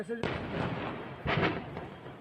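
Two deep explosive bangs a second apart, the second a quick double boom, as gas cylinders on a burning truck explode in Ghaziabad, India, rumbling at a distance while muffled voices carry underneath.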